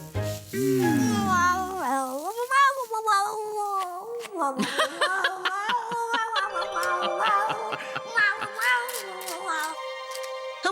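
A black cat in a Bibi Blocksberg cartoon meows in a drawn-out, wavering, song-like way, its sliding tones rising and falling over about ten seconds, loud and close, with clattering musical accompaniment joining partway through.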